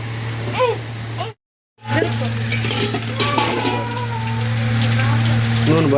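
Oil heats in a pan with a continuous sizzling hiss and a loud low electrical hum, briefly cutting out. A person speaks over it.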